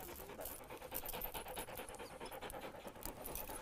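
Hunting dogs, pointers on a warm midday ptarmigan hunt in mountain country, pant rapidly and steadily throughout, close up and alone with no talk.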